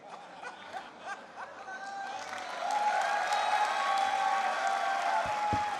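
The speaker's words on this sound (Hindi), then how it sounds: "भरपूर तालियां" Audience clapping at a literary festival closing and awards ceremony, scattered at first, then a fuller, steady round of applause mixed with crowd murmur, light laughter and talk.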